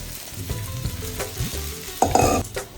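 Sabudana and potato fry in a pan, a close sizzle with intermittent stirring scrapes and a louder burst of crackle near the end, with no talking.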